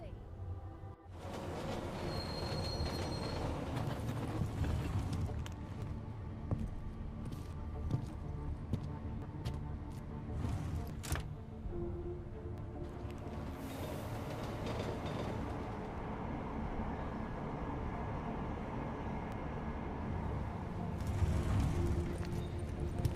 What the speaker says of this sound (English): Well, back onto the train we go.